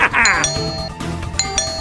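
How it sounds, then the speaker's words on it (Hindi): A doorbell rings indoors with a bright two-tone ding-dong, sounding twice in quick succession, loud and close with a tinkling resonance. "देख ना घंटी बाज से कौन आ गया"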